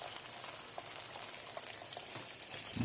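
Chicken pieces deep-frying in oil for KFC-style crispy fried chicken, a soft, fairly quiet steady bubbling hiss with a low thump at the very end.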